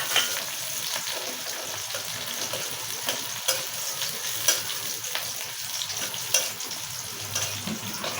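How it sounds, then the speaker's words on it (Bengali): Chopped onion and green chilies fry in a pan for a greens dish, giving a fairly quiet, continuous sizzle with small crackles and occasional stirring clicks. "পেঁয়াজটা আমার ভাজা হয়ে এসেছে।"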